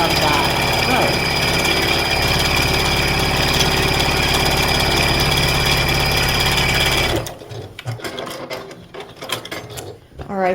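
A sewing machine stitches the length of a row on a snowman quilt, a loud, fast, even mechanical whir running for about seven seconds before it stops, followed by quieter handling noises.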